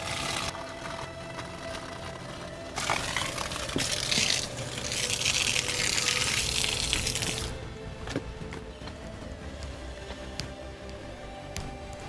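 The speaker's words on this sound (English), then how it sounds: "That's the amount of water that comes out." Water gushes from an open garden hose with no nozzle while plumbing a new grass area, a steady broadband rush that swells louder midway through and then settles back to a continuous flow.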